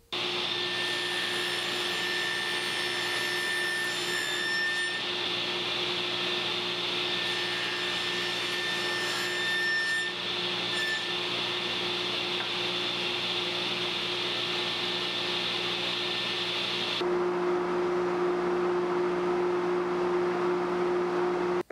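A table saw with a miter fence trims the edge of a wooden board for a miter joint, a loud steady whine running continuously and close, with a change in pitch near the end as the cut finishes.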